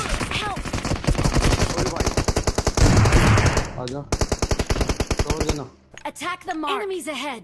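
Bizon submachine gun in the PUBG video game fires in long rapid bursts, loud and close, with a brief pause before a final burst and voices talking near the end.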